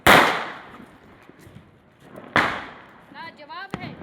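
Diwali firecrackers burst outdoors, two loud sharp bangs a couple of seconds apart with a fading crackle after each, while voices call out nearby.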